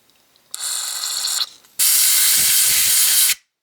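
AMSOIL MP carb cleaner sprays into a carburetor on an abandoned 1966 Chevy Biscayne big block in two hissing aerosol bursts, a shorter one and then a longer, louder blast, with nothing else around.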